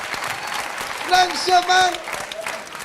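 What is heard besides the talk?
audience applause for the girls at a comedy show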